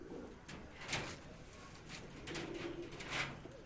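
Pigeons coo softly in a loft, a few low, faint calls spread over a few seconds with light rustling and background noise.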